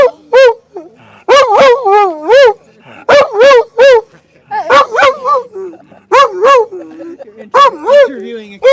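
A small dog barks and yips in sharp, close bursts, several quick clusters of loud barks with short whimpering gaps between them in an outdoor yard.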